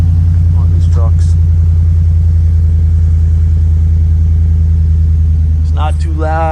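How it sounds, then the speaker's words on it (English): A Silverado 2500 HD pickup with a MagnaFlow exhaust holds a deep, steady idle rumble close by, droning evenly throughout while voices chatter over it. "Silverado 2500 HD. MagnaFlow sounds so good"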